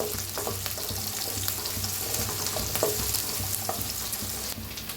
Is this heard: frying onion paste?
yes